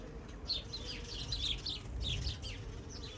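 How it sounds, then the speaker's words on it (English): Bees hum in a steady low drone close by, with scattered high bird chirps twittering in the background throughout. "my darling bees, so they're just starting to work"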